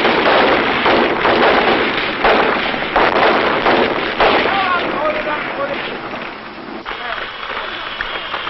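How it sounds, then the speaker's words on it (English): Machine gun fire from a 1965 US Marines combat operation: rapid, loud bursts of shots roll over steady field noise, with faint voices in the middle stretch. "Firing his machine gun."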